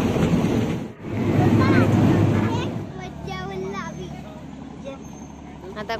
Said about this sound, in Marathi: बीच साईडचा जो एरिया आहे तिथे खूप हवा येते